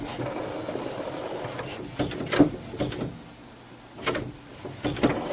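HP Designjet T120 large-format printer carriage sliding back and forth, moderately close mechanical whirs and soft clunks as it reverses, repeating every second or two.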